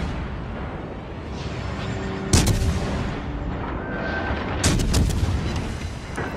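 Naval guns fire in the World of Warships Legends video game over a dense, rumbling battle din. Two sharp, loud salvos stand out a couple of seconds apart.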